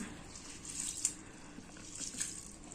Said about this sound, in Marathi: मी गहू धुवून घेते